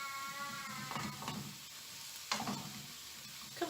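Vegetables, with green zucchini among them, sizzle and crackle in a frying pan as they are stirred, a steady close fry with a couple of louder scraping stirs and no talking.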